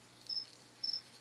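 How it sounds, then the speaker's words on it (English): Crickets kept in a sporting goods department give two short, faint high-pitched chirps, evenly spaced, over a quiet background hum. "You might be hearing my crickets."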